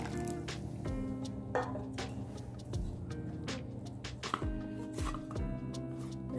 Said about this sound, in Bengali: ম্যাশ করে ডো বানাতে হবে।